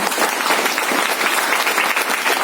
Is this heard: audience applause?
yes